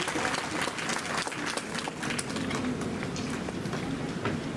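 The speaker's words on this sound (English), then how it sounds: "Big round of applause for Madam Seema Jain." A crowd at a university Independence Day celebration and awards ceremony gives a big round of applause, a thick, continuous clatter of many hands at a steady level throughout, with no talk over it.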